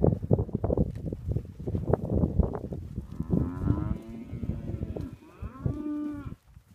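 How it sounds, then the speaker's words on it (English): A deck of Hereford heifers and steers at a cattle sale gives repeated loud moos and drawn-out lowing calls, near and overlapping amid shuffling and rustling. "Hereford cattle."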